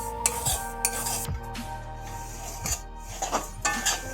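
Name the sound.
stirring semolina, flour and sugar frying in a pan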